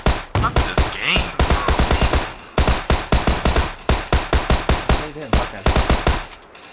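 Rapid bursts of automatic gunfire in PUBG on Xbox One, loud and close, firing in quick volleys with only brief pauses between strings of shots.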